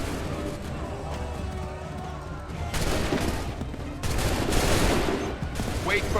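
Musket volleys crackle in Assassin's Creed III as a dense, sustained fusillade from several guns. It grows louder in two waves over a steady background din, and voices can be heard shouting through it.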